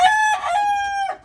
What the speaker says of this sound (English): He's a happy rooster.